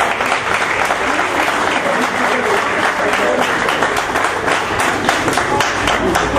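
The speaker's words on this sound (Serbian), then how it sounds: "Da, može jedan aplauz za njih." An audience at a celebration in Leskovac gives sustained, dense applause, loud and close, steady from start to finish.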